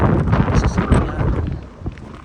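Strong wind roars steadily through a snow blizzard near a parked vehicle, a loud broadband rush with gusts that swell and ease, then drops somewhat toward the end.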